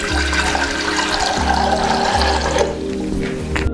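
About a litre of water is poured into a pot for ginger tea with cloves, pepper and rock sugar, a loud steady splashing gush that tapers off near the end.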